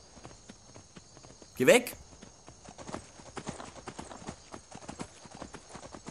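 Horse hoofbeats in Skyrim, a single short clip-clop burst of a horse nearby, with someone talking over quiet game ambience.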